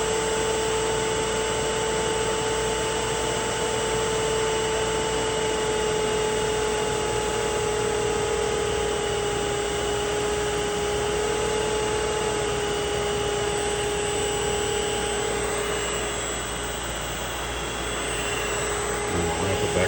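A 1 hp three-phase 220 V motor driven by a YL600 VFD at reduced speed gives off a steady, loud electric whine with a constant tonal hum and broadband whir, unchanging throughout.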